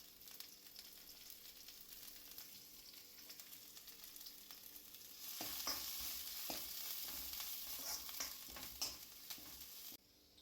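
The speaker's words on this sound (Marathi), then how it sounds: "जिंजर गार्लिक छान फ्राय झाल्यानंतर आपण त्यात अनियन बल्ब्स घालूया" Ginger, garlic and onion fry in a pan for veg chowmein, a faint sizzle that grows louder and busier midway, with stirring clicks and scrapes.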